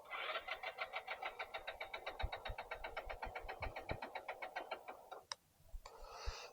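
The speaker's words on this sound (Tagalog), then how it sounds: "Tumigil lang ako, ayaw na umandar ah." A motorcycle engine repeatedly fails to start: a fast, rhythmic cranking whir runs for about five seconds and then cuts out, followed by a couple of sharp clicks and a brief burst of noise, close and fairly loud.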